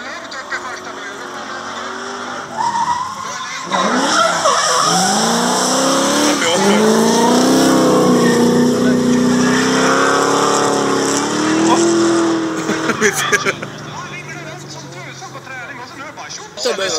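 Cars drifting on the Mittsverige race track, loud engines revving and rising with long tire squeals and skids, close and sustained, while people talk over the noise.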